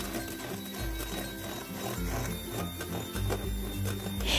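An electric mixer at high speed beats egg whites with sugar. A steady loud whirring hum runs throughout, with a rattling, uneven beat and small shifts in pitch as the beaters move through the bowl.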